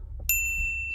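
A single bright notification bell ding strikes cleanly and rings out with a sustained, slowly fading metallic tone over a faint low background.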